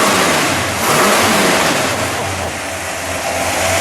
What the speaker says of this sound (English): Give it one more rev, Juan.